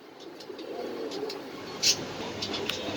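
Pigeons at a pigeon farm in Mirpur, soft low cooing murmurs rising and falling steadily over a faint background hum, with one brief brighter call near the middle.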